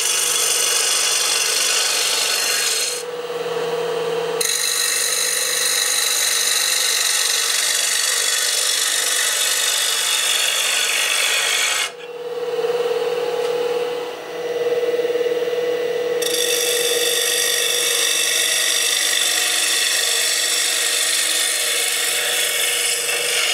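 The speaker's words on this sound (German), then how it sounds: "Ein großer Teil vom Material wird jetzt erstmal rausgebohrt." Loud, continuous high-pitched grinding of a drill bit boring into a maple wood bowl on a spinning lathe, interrupted twice by brief pauses.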